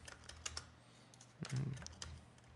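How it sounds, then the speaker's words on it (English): A value typed on a computer keyboard at a desk, a short burst of light close key taps followed by a slightly louder thump of keys, quiet and without speech. "I know the slider doesn't go that far, so just type it in"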